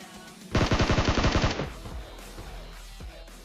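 A rapid burst of automatic gunfire from the mobile game PUBG Mobile rattles off about a dozen close, loud shots in under a second, followed by a quieter trailing rumble and a single faint thump.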